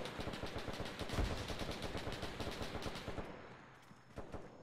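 Rapid automatic gunfire in the Arma 3 video game rattles off in a steady fast stream for about three seconds, moderately loud, then drops away to quieter background noise with a few scattered hits.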